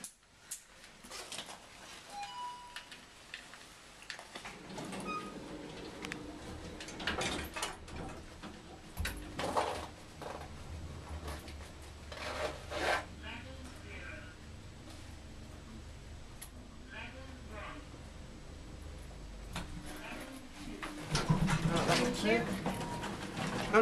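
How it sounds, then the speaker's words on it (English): An Ebor lift in the Yorkshire Hotel in Harrogate moves between floors, with a low faint motor hum, clicks and door rumbles, and people talking at times over it. "It's an Ebor lift."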